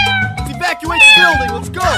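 A cat meows several times in close succession, loud and near, each call a rising and falling wail.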